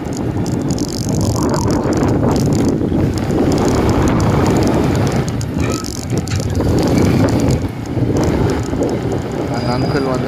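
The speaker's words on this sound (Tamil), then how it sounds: "காற்று வேறு ரொம்ப அடிக்குது." Strong gusts roar and buffet the microphone on a roadside in Thiruvallur while a scooter rides along, a steady loud rush of wind noise filling the whole stretch.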